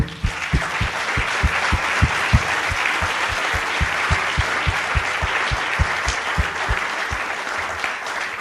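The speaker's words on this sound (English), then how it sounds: "Please, a round of applause." A symposium audience applauds steadily, a dense wash of clapping with some rhythmic claps standing out, loud and sustained throughout.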